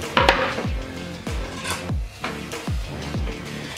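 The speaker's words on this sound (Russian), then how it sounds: "Нарезаем картошку мелкими кубиками." A knife dices potatoes into cubes, striking the cutting surface in a steady series of about seven firm, evenly paced chops with a dull thud under each cut, close and clear with no voices.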